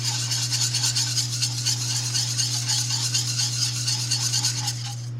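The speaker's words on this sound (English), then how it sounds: "it's just to whisk this until smooth" Steady rapid whisking of cheese sauce for mac and cheese in a pot, a close, continuous rhythmic scraping beat over a low hum that stops near the end.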